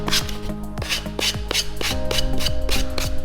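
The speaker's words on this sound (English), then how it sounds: "I've gone and got a piece of 240 grit sandpaper and a sanding block" Hand sanding the edges of a workpiece with 240-grit sandpaper wrapped on a sanding block, heard as a steady run of close, rhythmic rasping strokes over a constant background tone.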